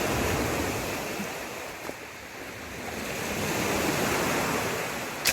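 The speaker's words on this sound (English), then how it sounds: "That would explain the strong waves." Strong waves breaking on a shore at a backcountry campsite under a near-full moon, a constant roaring wash of surf mixed with wind that swells slightly toward the end and carries no voices.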